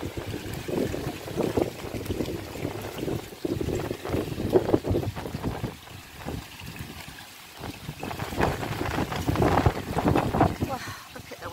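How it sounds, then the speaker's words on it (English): Strong wind buffets the microphone outdoors beside a garden koi pond, a loud, continuous roar with gusty swells and rumbling low-end noise, no voices heard. "Wow, look at the wind."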